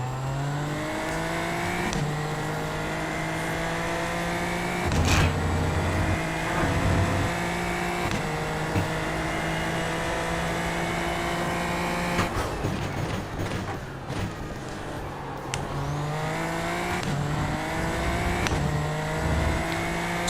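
Open-wheel race car engines in a racing video game whine steadily at high revs, with pitch dropping on gear shifts and climbing again, loud and continuous with no talking.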